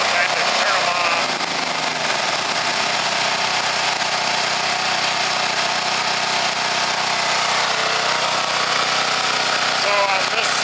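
Warmed-up propane generator engines run together with a loud, constant mechanical roar that fills the whole stretch, and a voice can be heard under the noise.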